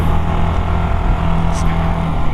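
A motorcycle engine drones loud and steady at close range, with a constant low rumble and no clear changes in speed.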